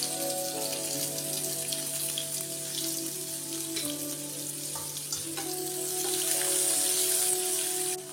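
Onions and garlic sautéing in a pan of oil with fennel seeds for a curry, a steady crackling sizzle that swells louder toward the end, close and without talk.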